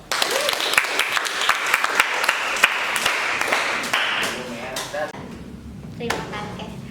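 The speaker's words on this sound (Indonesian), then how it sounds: "Tepuk tangan dong." Applause from students at a school quiz competition, a burst of clapping with sharp individual claps through the first few seconds that thins and fades out, with talk mixed in.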